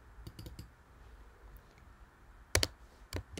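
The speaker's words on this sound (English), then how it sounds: "go down here and double click on it" Computer mouse buttons clicked at a desk, sharp quick taps in small clusters, with a clear double click near the end, close and crisp over a low hiss, no speech.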